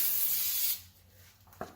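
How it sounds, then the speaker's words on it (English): Brake cleaner sprays onto a brake rotor from a Nissan Armada in a loud, steady aerosol hiss lasting under a second, then stops abruptly, leaving quiet handling noise and a small knock. "We're just going to spray some brake cleaner on there"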